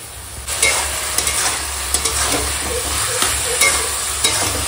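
A spoon stirs and mashes boiled vegetables in a pan for a Bengali noton shaak dish made with bori and bitter gourd, giving a steady sizzle with repeated scraping knocks that recur roughly every half second.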